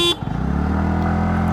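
A loud, close horn blast at the start, followed by a Hero Xoom 125 or TVS Ntorq 125 scooter engine revving steadily at full throttle with a buzzing drone.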